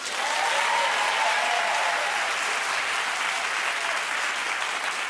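A television talk-show studio audience claps steadily and loudly for about five seconds, a dense, even wash of hands with no pause and no voices over it.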